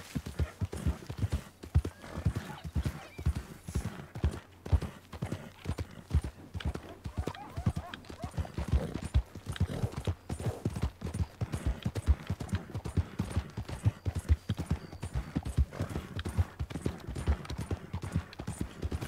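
In the Red Dead Redemption 2 video game, a horse's hooves clip-clop in a quick, steady rhythm throughout, with an occasional neigh mixed in and no talk.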